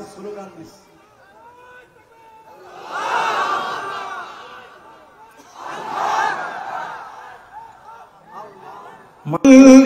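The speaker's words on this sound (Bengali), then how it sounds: "একজন স্লোগান দিচ্ছে" A crowd at an Islamic religious gathering (mahfil) chants a slogan in two loud, swelling waves, responding to a lead voice, with quieter speech between the chants.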